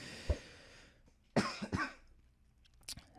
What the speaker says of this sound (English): I've got a little bit of a cough going on here